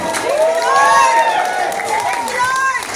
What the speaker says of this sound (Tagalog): Malakas ang palakpak kung kayo na magpagbigay ng malakas na sigaw